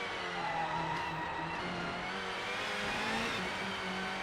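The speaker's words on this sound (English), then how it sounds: "I'm kind of fond of this engine." A racing car's engine in the Nintendo 64 game GT 64: Championship Edition, a steady buzzing drone with slight pitch shifts in the revs, continuous and fairly loud throughout with no talk.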